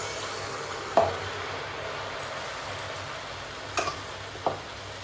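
Sel roti rice batter fries in hot oil, a soft continuous sizzle at low level with a few brief clinks or taps standing out above it.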